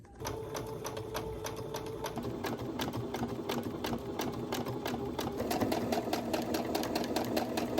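A sewing machine stitches quilting lines through smooth ironed fabric with batting behind it, its needle hammering in a fast steady rhythm close by, the motor hum swelling slightly toward the end.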